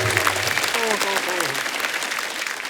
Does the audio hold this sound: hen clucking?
no